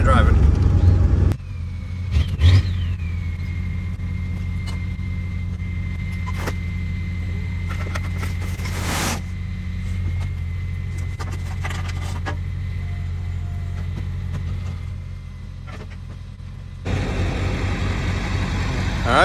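A vehicle hauling a load of fill to a new equipment yard, a steady low engine drone with a whining drivetrain tone throughout, close and moderately loud, with a louder surge near the end.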